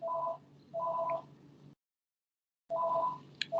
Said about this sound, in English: there is a phone ringing